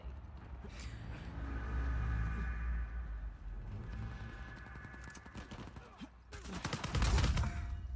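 Video game gunfire from an online shooter stream: sustained rattling bursts over a low rumble, with a loud close volley near the end and no voices.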